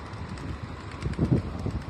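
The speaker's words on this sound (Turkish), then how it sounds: "Hedefte burada rüzgar var bugün." Steady wind buffets the microphone in a low, rumbling wash, swelling briefly louder near the middle with no talking.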